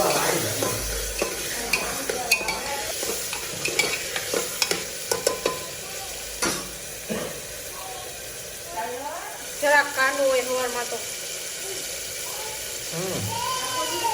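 Green chickpea curry sizzling in a pan while being stirred, with scraping utensil strokes and clinks against the pan over a steady frying hiss; a person's speech drifts in and out under the cooking noise.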